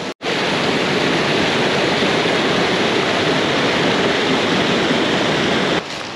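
Loud river water rushing steadily and close by, a dense broadband roar that stays constant with no voices over it.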